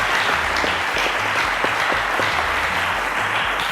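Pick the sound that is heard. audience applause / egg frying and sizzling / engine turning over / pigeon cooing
audience applause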